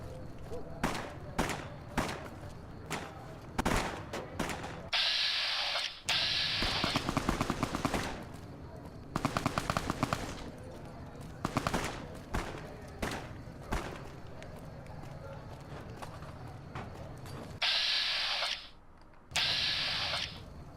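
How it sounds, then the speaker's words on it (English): Gunfire in the video game Fallout: New Vegas, with rapid sharp shots in clusters and sustained bursts of automatic fire, alternating with quieter gaps and brief game effects. "Who are you shooting at over here?"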